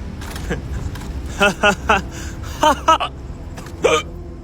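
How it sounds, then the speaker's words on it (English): A person hiccups repeatedly in an irregular rhythm, about seven sharp, close, loud bursts with pauses between them, with no talk over them. "Hiccup."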